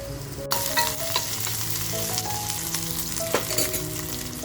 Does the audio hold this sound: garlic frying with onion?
yes